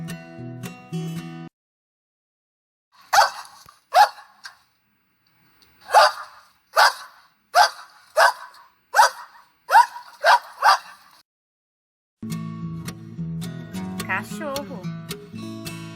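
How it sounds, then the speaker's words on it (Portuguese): A dog barks about ten times in short, sharp, evenly spaced yaps, close and clear, set between stretches of light background music at the start and end. "Cachorro."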